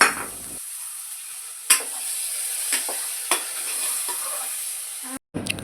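Spices and yogurt stirred into hot oil in a pan while making fish biryani, a steady sizzle with a few scraping stirs and clinks, close and fairly quiet.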